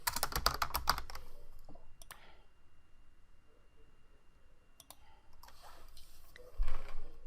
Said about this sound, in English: you're actually just going to type that in under this section.